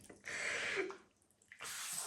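Soy sauce poured freely from a bottle for a dumpling lasagne, a soft trickling splash of liquid in two short bursts with a brief pause between, close and quiet.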